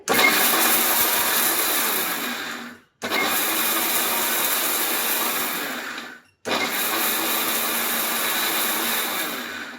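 A mixer grinder grinds whole spices for homemade garam masala in three long, loud bursts, each about three seconds, separated by short stops, with no voices.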